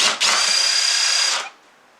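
A power drill fitted with a 5/16 deep socket spins out long bolts from a Yamaha S4115H speaker cabinet, one steady high whine lasting just over a second and then dropping off, close and loud with no talk.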